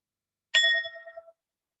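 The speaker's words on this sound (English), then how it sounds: "you'll hear the sound of the chime again" A mindfulness chime is struck once, giving a bright metallic ring that lingers and slowly fades to silence, clear and alone.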